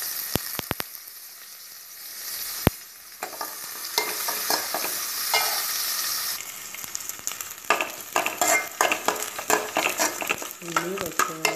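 Chopped onion, ginger and curry leaves sauté with spluttering mustard seeds for broken-wheat upma: sharp pops first, then a steady frying sizzle with repeated rhythmic spatula scrapes, close and loud.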